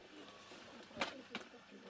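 A pigeon held indoors in a Russian home coos twice in short, soft bursts under a low steady background hum, with no talking.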